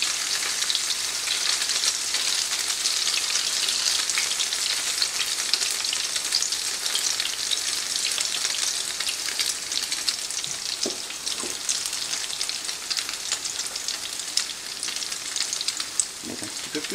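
Bread slices for pain perdu frying in a pan give a continuous, even sizzle throughout, with a couple of faint clicks near the end.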